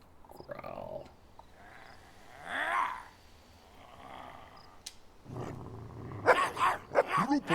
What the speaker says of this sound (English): Alfred established his violent intentions with a deep growl